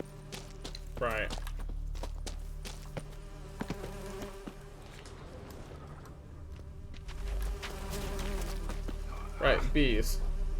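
Insect buzzing around a griffin's nest in The Witcher 3, a steady droning hum filling the background for the whole stretch, with a swell near the end and brief bursts of voices.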